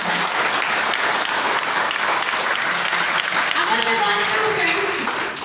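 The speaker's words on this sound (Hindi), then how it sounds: "मिस्टर डीएन सिंह सर के लिए एक जोरदार ताली बजाइए।" Audience applause fills a training-program hall, a loud, dense clapping sustained throughout with some voices mixed in.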